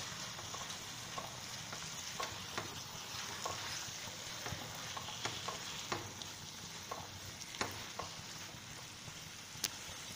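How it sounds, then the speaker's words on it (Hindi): Spinach and boiled chickpeas are stirred in a hot pan, giving a steady sizzle and frying hiss broken by quick scraping strokes of the spoon at irregular moments. "पालक और छोले मिक्स कर दिए हैं"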